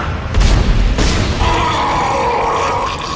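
Weapon shots at an enemy in Dead Space on hard difficulty: two sharp, loud booming blasts close together near the start, followed by a lingering mechanical hum and low groaning.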